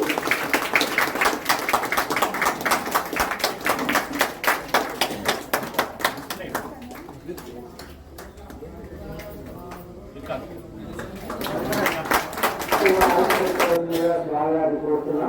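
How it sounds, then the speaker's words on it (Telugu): Audience clapping at a book release during a Ramayana and Divya Prabandham recitation gathering: several seconds of dense, loud group clapping that thins out, with talk coming in over the remaining patter. "అందరూ కూడా ఒకసారి గట్టిగా చప్పట్లు కొట్టండి."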